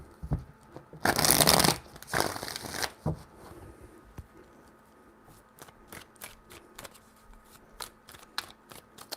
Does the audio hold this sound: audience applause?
no